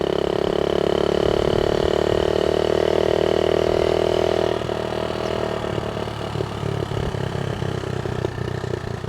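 A Honda Z50A minibike engine runs loud and steady while the bike rides along, its drone dropping slightly midway and turning to an uneven, sputtering clatter.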